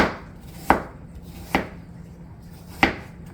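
An apple being chopped into little chunks on a board, three distinct knife thuds spaced unevenly over a quiet background, close and with no talking.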